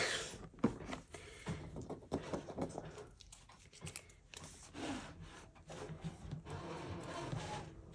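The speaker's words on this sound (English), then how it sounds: "That's my printer making weird noises." A printer grinds and scrapes irregularly, with raspy mechanical rubbing and clicking bursts at a moderate, close level.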